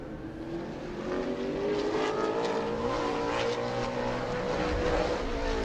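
A modified race car on a qualifying lap at New Smyrna, its engine roaring steadily at high revs as it passes, rising in volume after the first second and holding loud and sustained throughout.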